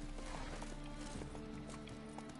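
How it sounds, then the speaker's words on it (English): Horse hooves clip-clop steadily in The Witcher 3: Wild Hunt, a quiet, even trot of soft knocks over a constant game ambience with low hum and faint background tones. "One horsey."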